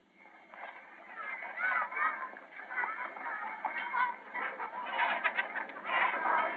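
Chickens cluck and fuss from inside a carried bag, a steady run of soft, busy clucks at moderate level lasting several seconds, with some voices mixed in around them.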